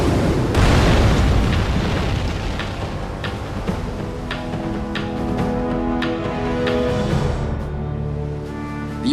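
Aircraft carrier Yorktown takes hits in a World War II naval battle game cutscene: a deep, rumbling explosion booms out, then keeps roaring with sharp secondary blasts and crackles over a sustained low, droning tail.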